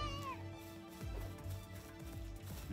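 A cat-like creature in Palworld gives a faint meow amid game music and rhythmic background effects, quiet and partly buried under the soundtrack.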